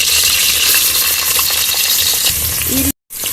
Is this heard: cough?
no